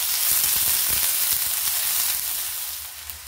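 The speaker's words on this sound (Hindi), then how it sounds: "तेल गरम हो गया है, अब इसमें डालेंगे 1 प्याज बारीक कटा हुआ। प्याज को हल्का सा ब्राउन कर लेते हैं।" Finely chopped onion fries in hot oil, a dense continuous sizzle and crackle heard close up, steady and loud with no talking.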